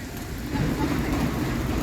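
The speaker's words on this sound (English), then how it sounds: "it's raining here in Miami" Steady rain falls outdoors near a train station in Miami, a dense, even wash of noise that holds at a constant level throughout, loud and close.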